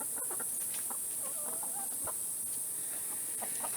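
Hens cluck and murmur inside a backyard chicken coop, a cluster of soft, close bird calls scattered through a few seconds over a steady high-pitched background hiss, with no one talking.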